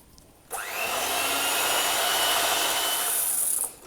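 An electric mixer whirs steadily for about three seconds, switching on and off abruptly as it beats red velvet cake batter with vanilla essence. No one talks.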